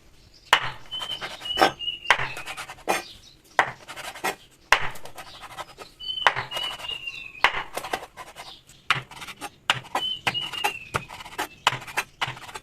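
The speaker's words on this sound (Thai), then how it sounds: "เราจะสับแรง ๆ เลยค่ะ" Repeated hard knife chops on a cutting board in irregular bursts, sharp and close, with no one talking, as filling for fried crab-stick rolls is minced.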